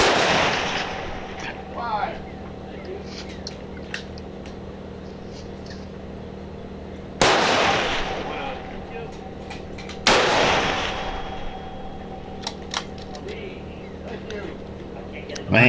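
Guns fire during a shooting match, with sharp, loud shots spaced seconds apart that ring out over an outdoor range, and some faint smaller pops between them.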